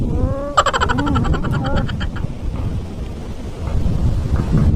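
Strong wind gusting outdoors where pigeons are kept, a steady roaring rumble buffeting the microphone throughout, with a brief tonal voice-like sound near the start.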